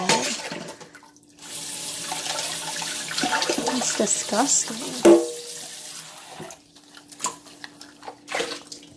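Tap water runs steadily into a kitchen sink while dishes are washed, a continuous splashing flow with a few clinks, heard under someone talking.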